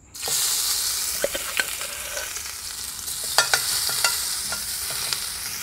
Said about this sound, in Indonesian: Dan langsung kita tumis bumbu tumbukan yang saya tumbuk.